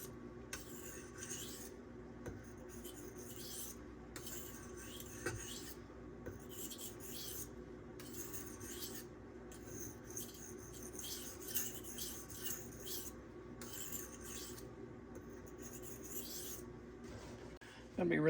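A K390 steel knife blade, part of a Benchmade 940, drawn across a whetstone in steady back-and-forth rasping strokes with short pauses between them, close and fairly quiet.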